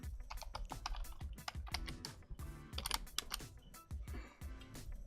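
Rapid typing on a computer keyboard, a steady run of close, crisp key clicks with a few heavier strokes, heard alone without any talk.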